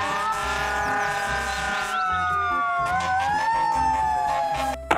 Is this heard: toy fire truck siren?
yes